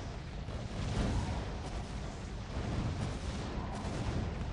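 Yellow cannon towers firing in the strategy game Defense Grid, a dense, continuous rumble of booming artillery-like blasts layered over broad noise, steady and fairly loud throughout with no talk.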